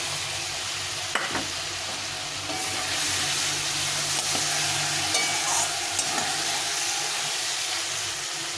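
Thin-sliced fried potatoes tipped into a frying pan of cooked spice paste and stirred, giving a loud steady sizzle with hissing steam and a few scraping knocks from the spoon, without any voices.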